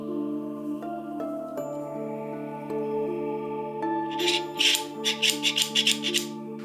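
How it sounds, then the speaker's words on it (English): Quick bursts of scraping, ratcheting metal as an Allen key tightens the depth stop on a pocket hole jig, about eight in a row, close up over a steady humming drone. "Then tighten the depth stop with an Allen key."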